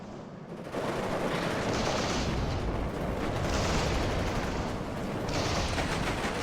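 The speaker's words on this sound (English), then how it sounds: "There comes the artillery to support." Artillery barrage in the real-time strategy war game WARNO, a dense continuous rumble of heavy firing and explosions washing over one another, loud and unbroken, with no voices.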